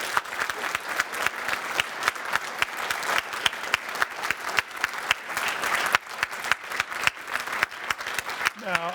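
After a televised ACT election leaders' debate between Andrew Barr and Elizabeth Lee, the audience gives a sustained round of applause, steady crowded clapping that carries on for about nine seconds with faint voices mixed in.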